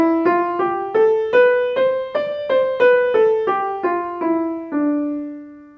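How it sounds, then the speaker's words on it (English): Slow melody in the Dorian mode, a Welsh hymn tune line with flattened thirds and sevenths, played as about a dozen clear, evenly spaced sustained notes on a bright keyboard-like instrument, each note decaying, ending on a longer held note. "The Dorian mode sounds something like this."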